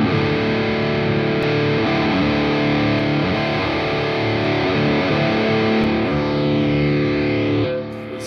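Electric guitar through an STL ToneHub amp simulation with effects, playing sustained, distorted chords that ring steadily for about seven and a half seconds before cutting off near the end.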